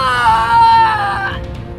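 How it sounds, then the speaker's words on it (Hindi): A girl screams loudly in pain in an animated Hindi horror story, a sustained, strained high wail that rises and wavers over about two seconds, alone without speech. "सुहाना दर्द के मारे पेट पकड़े जोर जोर से चीख रही थी"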